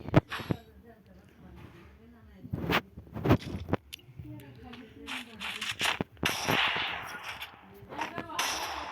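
Sharp gunshots in a first-person shooter game, scattered single cracks and short bursts landing between stretches of someone talking, fairly loud and close with game noise underneath.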